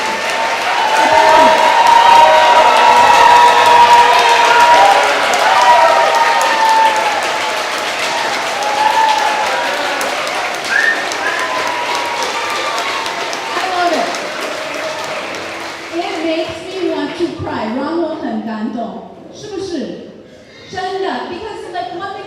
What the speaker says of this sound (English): let's give them another applause